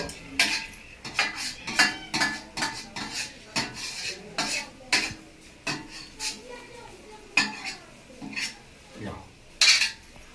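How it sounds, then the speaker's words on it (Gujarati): Metal utensils scrape and clink against a pan as turmeric fries in ghee, a steady run of sharp stirring knocks with faint sizzle and a little talk. "હવે હળદરને ફ્રાય કરી દે"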